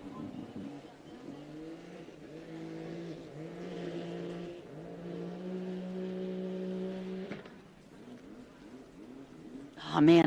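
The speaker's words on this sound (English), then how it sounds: "I love that sound of a boat just hitting the accelerator" A racing ski boat at a Glenmaggie boat club tour event revs hard, its engine note rising and falling in steady harmonic surges, then dropping away before a sharp loud burst at the end; people talk faintly underneath.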